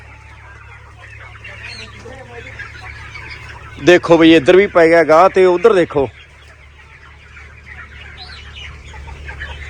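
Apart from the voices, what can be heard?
chicks and chickens released on a desi poultry farm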